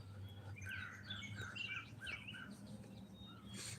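Chirping calls from a black squirrel outdoors, a run of short high-pitched chirps repeating over steady low background rumble, moderately faint.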